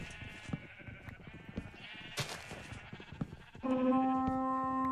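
Sheep bleating on a farm in the Colonial Expanse game, a few quiet scattered calls over soft ambient clatter, ending in one long, clear, close bleat.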